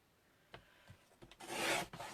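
Paper being cut up for Instagram-style scrapbook frames, heard as a few soft scissor snips followed by a longer rustling slice, close and quiet with no talk.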